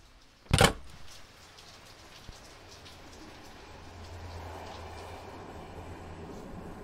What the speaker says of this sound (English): get on a northbound train